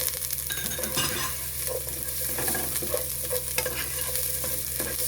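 Garlic and onion sautéing in a pan for pork giniling, a steady close sizzle and fry with repeated scraping stirs across the whole stretch, no voices.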